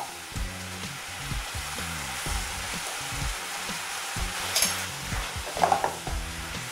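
Chopped onion sizzling and frying in a pan for a French onion sauce, a steady crackling hiss with occasional scraping of a utensil stirring through it, close and moderately loud with no talking.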